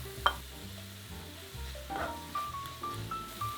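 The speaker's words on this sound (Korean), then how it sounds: "양파가 투명해지면 불을 중약불로 줄이고 다진 마늘과 바질을 넣습니다." Onion, minced garlic and basil sautéing in a pan over medium-low heat, a soft close sizzle with a few stirring scrapes and one sharp clink near the start.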